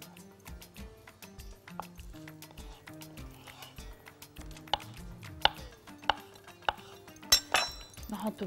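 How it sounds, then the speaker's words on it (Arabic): Luncheon meat being chopped into cubes with a knife on a board, a steady series of close, firm thuds that quicken toward the end, with a few light clinks of utensils. "هقطعه كده"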